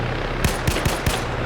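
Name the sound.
gunfire at a vehicle in a video game (Arma)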